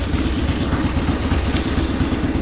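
A Harley-Davidson Ironhead motorcycle engine, a barn find revived after 25 years, idles loud and close with a steady, even clattering rumble throughout.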